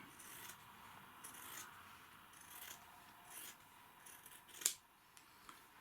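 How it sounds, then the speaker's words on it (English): Scissors cutting across trouser pocket fabric during a garment repair, a few soft snips and scraping rubs close by, quiet against a faint background hiss, ending in one sharper cut. "So now all we do is get the scissors"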